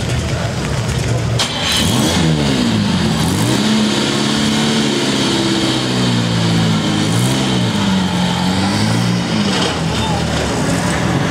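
A vintage Bugatti car engine revs at a festival in Molsheim, its steady loud drone rising and falling in pitch through several throttle swells, with a voice announcing over it throughout.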